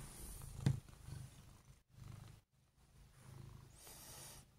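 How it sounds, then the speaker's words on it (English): A cat sniffing around outdoors in the sun gives soft, low purring in faint, uneven rumbling bursts with short quiet gaps between them. "Sniffing around, you're purring a lot."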